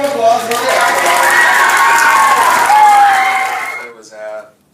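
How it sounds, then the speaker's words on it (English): Children in an elementary school audience cheer and clap loudly together for several seconds, a dense crowd roar that fades out, followed by a brief voice at the end. "One more round of applause for the actor."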